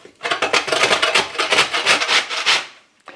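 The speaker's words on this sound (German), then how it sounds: "Das werde ich jetzt erstmal reiben und dann ein bisschen in Milch anlegen." A hard, stale bread roll is rubbed against a grater in quick, rhythmic rasping strokes, close and loud, about a dozen scrapes before stopping.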